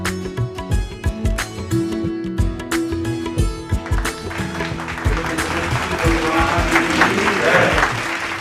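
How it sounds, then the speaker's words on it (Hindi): A crowd at a school Vidya Utsav grand finale applauds to welcome the title sponsor onto the stage. The clapping builds from scattered claps over music into fuller, louder applause, with an announcer's voice heard in the mix. "जोरदार तालियों के साथ स्वागत करते हैं।"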